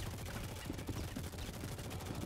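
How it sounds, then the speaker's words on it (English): Gunfire crackles in a shooter video game during a bunker mission, a dense run of muffled, distant-sounding shots with rapid bursts repeating throughout. "I heard a lot of gunfire."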